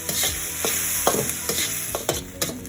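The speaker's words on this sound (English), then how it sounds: "A little soy, oyster, and sesame oil. Let's stir fry all that together." Rice stir-fried with soy sauce, oyster sauce and sesame oil in a hot pan, a steady close sizzle broken by repeated scraping stirs of the spatula, with no talking.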